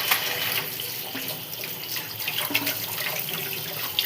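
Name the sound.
water running from tap into sink basin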